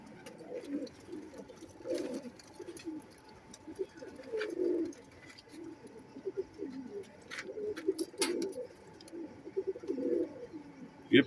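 Soft, low pigeon coos repeat in bursts throughout, with faint clicks and rustles in the background.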